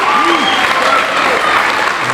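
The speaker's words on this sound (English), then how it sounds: "Nice cheer from the crowd there" At an All-Ireland senior men's doubles softball semi-final, the crowd applauds and cheers loudly and steadily, with voices and whoops rising over the dense clapping.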